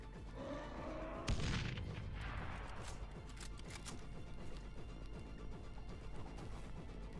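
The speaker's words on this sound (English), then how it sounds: "Grenade." A grenade goes off in Dead Island Riptide at a military base, a single sharp close blast followed by a rolling rumble and scattered crackling debris over steady background noise.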